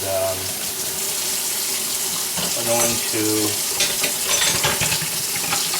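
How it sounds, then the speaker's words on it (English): Hot water runs steadily from a tap into a kitchen sink as it fills, a continuous close rushing splash with someone speaking briefly over it. "So I'm going to fill the sink with hot water, not boiling water, just hot water."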